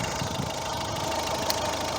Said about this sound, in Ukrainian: у нас виглядає звук, будемо так казати, робочого двигуна